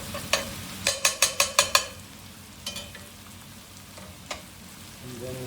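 A spoon stirs curry paste cooking in a roux for New Mexico style Thai curry, with a quick burst of about six sharp taps on the pan followed by a few isolated clicks over a faint, quiet sizzle.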